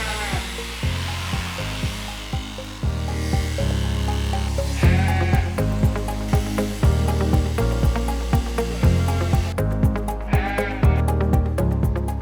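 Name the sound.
sheep bleating during shearing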